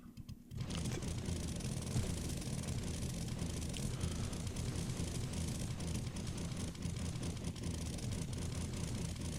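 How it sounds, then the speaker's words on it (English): An auger digs a trench in 7 Days to Die, giving a steady, unbroken mechanical grinding drone that starts abruptly and runs loud and constant throughout. "so the auger makes this short work"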